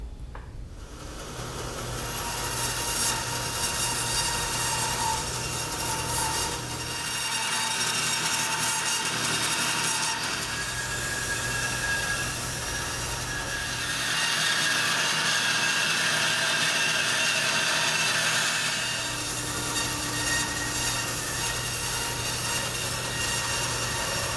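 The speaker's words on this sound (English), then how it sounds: "So now that I've cut the butternut blank from the bandsaw" A bandsaw cuts a butternut wood blank, a continuous loud whirring rasp that rises and falls slightly as the blade works through the wood, with no speech.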